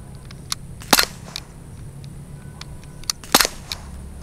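Two sharp snapping shots from a Daisy Powerline 5501 air pistol, about two and a half seconds apart, each with a short crack over a low steady background hum.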